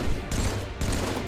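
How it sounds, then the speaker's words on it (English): Rapid video game gunfire bursts out loud and close, a dense fusillade of shots that cuts off briefly and then resumes. "Oh, you just made me open fire."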